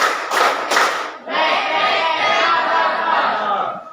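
Students in a class do a rhythmic clapping pattern: two crisp claps close together, then a long stretch of lively crowd noise and chatter from the group.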